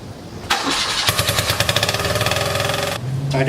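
A vintage motorcycle firing on only one cylinder cranks and catches with a loud, uneven, pulsing chug. It runs roughly for a couple of seconds, then drops to a low idle hum.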